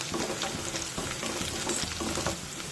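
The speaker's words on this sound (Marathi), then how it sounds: "आता लसूण आणि मिरच्या दोन्ही छानपैकी परतून घेऊया।" Garlic and green chillies sauté in a pan for a dill-leaf vegetable dish, a steady loud sizzle broken by scraping stirs, close up with no talking.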